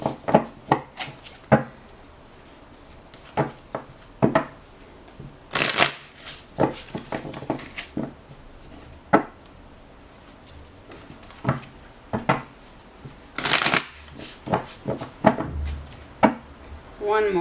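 A deck of tarot cards shuffled by hand in a quiet room, with repeated riffling bursts and sharp snaps at irregular intervals, close and fairly loud.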